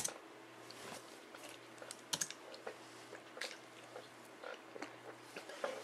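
Rapid, irregular clicks of typing on a computer keyboard, close and fairly quiet, with uneven bursts of keystrokes and no voices.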